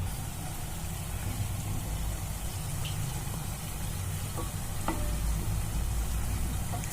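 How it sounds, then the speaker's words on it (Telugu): Paneer tikka pieces frying in oil over a medium flame, a steady, dense sizzle and hiss that runs the whole time with a few soft clicks of the pieces being turned. "ఇలా మీడియం ఫ్లేమ్లో పెట్టుకొని వేయించుకుందామండి అన్నిటినీ."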